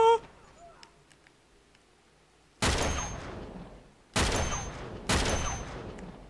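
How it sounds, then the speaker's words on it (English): Three loud bursts of rapid video game gunfire, each sharp onset trailing into a decaying volley, come after a quieter stretch with faint chirps and small clicks. "fucking horrible shooting, Mike."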